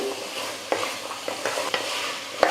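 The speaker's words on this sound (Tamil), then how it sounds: "ஒரு நிமிஷம் நல்லா வதங்கட்டும்" Potato and chickpea kurma masala sautéing in a pan for dosa, idli and chapati, a steady close sizzle with a few sharp spoon scrapes and stirring clacks.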